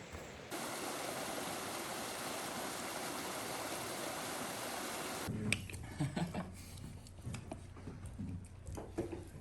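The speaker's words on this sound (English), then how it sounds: "look, I think these are waterfalls." Waterfalls along a hiking trail in Maine's 100 Mile Wilderness on the Appalachian Trail give a loud, steady rush of falling water for several seconds, then drop away to quieter, uneven splashing and outdoor noise.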